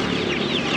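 A Giriraja chicken at a country chicken market near Bangalore gives a brief, close cluck, heard alone over faint market background.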